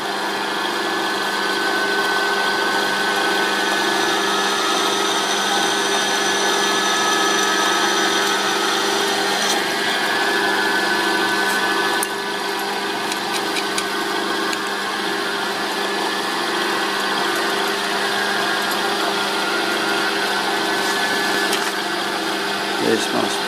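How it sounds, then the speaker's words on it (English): A drill runs steadily, boring a hole in a workpiece set up on a Myford dividing head on a lathe, a continuous high whine close by for the full length, with a brief change in tone partway through. "Lock the table, drill the hole."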